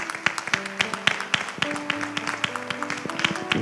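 A church congregation claps in a lively, roughly rhythmic beat during a Sunday morning service, with sustained musical tones running beneath the sharp, repeated hand claps.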